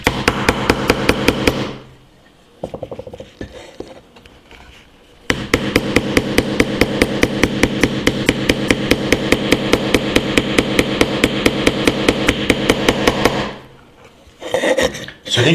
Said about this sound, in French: J'ai du mal à planter quand même ce gros clou.